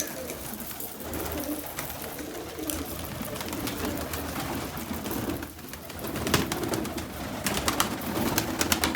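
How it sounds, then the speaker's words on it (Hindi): Pigeons cooing on an open chicken farm, soft repeated coos and rustling from a flock close by, continuous under a light background hiss with occasional sharper bird sounds. "और बाकी ये वाले कबूतर हैं"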